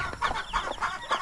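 A mother hen that has just hatched her chicks clucks in a backyard, four rhythmic, close clucks in quick succession with no talk over them.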